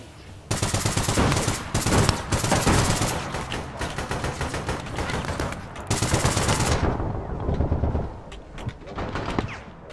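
Loud, rapid automatic gunfire in the video game APB Reloaded, rattling in long sustained bursts with brief gaps, close and dominant throughout with game effects trailing off near the end.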